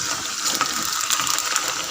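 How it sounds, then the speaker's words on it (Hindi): Taro (arbi) slices, cut thin like potato chips, fry in hot oil over a high flame, giving a steady, dense sizzling hiss with small crackles and no talk. "अब हम इन्हें इसमें फ्राई करेंगे"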